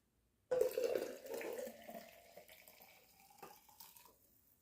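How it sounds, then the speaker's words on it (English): Water pours into a French press coffee maker, starting abruptly with a bright splashing stream that gradually thins and tapers off over a few seconds, close and alone without any talk. "So I'm going to add the rest of my water now."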